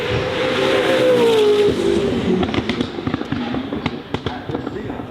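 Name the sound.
Singer 21C hypercar driving up the hill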